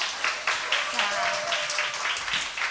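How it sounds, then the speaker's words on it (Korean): A church congregation claps to congratulate a pastor, a dense, steady round of applause from many hands in a large room that lasts the whole moment, with a voice speaking over it. "우리 축하의 박수 크게 한번"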